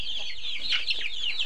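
Young chicks in a poultry shed chirp and cluck continuously, a dense overlapping chorus of high peeping calls with no talk.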